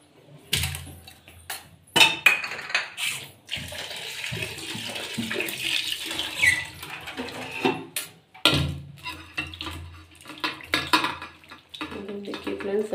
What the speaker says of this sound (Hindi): सब्जी को 2-3 पानी से धोने